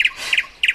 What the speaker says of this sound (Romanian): Ascultă, glas de privighetoare.